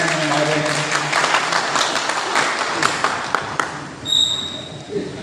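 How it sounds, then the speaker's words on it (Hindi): Loud hand clapping from an audience at a university farewell and felicitation ceremony, a dense burst that thins out toward the end, with a voice speaking over it. "जोरदार तालियां बजाकर भी सम्मान"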